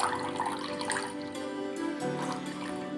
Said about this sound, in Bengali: এই নারকেলের দুধটা একটু ছেঁকে নেব